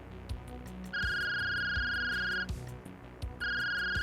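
A phone rings with an electronic ringtone, two bursts of a bright repeating tone separated by a short pause, loud and close.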